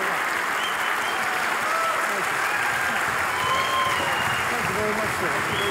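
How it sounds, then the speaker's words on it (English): Dense, steady audience applause fills a theater during the Science Busters Oberhummer Award 2016 special, sustained and even throughout, with faint whistles and cheers mixed into the clapping. "Give them a round of applause."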